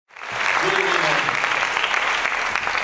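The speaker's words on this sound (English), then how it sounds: "Can we give all each other a round of applause for the great performance?" Applause from a university audience after a drum clinic percussion performance, dense clapping rising quickly and holding steady throughout, with a few voices mixed in.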